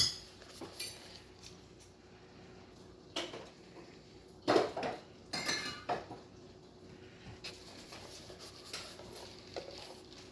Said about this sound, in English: I'm just going to take that and give it another mix and try to spread it relatively evenly over the top of the entire dish